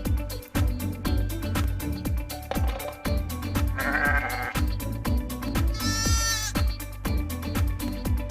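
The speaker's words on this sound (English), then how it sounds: "Sheep." Sheep bleating twice, with a short wavering bleat followed by a higher, louder one, both heard over a rhythmic, bass-heavy children's music track with a steady beat.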